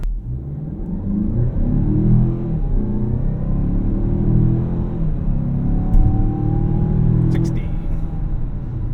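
A 2024 Mazda CX-5 Turbo with a 2.5-liter turbocharged four-cylinder accelerating from 0 to 60, heard from inside as a loud, sustained engine rumble with a slowly rising drone throughout.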